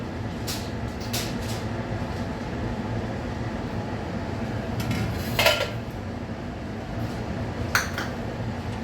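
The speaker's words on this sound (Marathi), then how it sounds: "दूध यामध्ये घालून घेऊया. हेही फेटून घेऊया." Milk being whisked into sugar in a bowl for a carrot cake, with clinks of the whisk against the bowl at a few moments over a steady low background hum, no talking.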